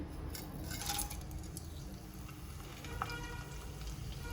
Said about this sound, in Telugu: ఆయిల్ హీట్ అయినాక ఇందులో కొంచెం దాల్చిన చెక్క, లవంగాలు, యాలకులు, జీలకర్ర, మిరియాలు ఇవి వేస్తున్నానండి